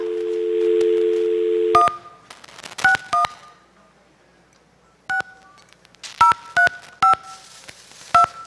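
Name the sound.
telephone dialing tones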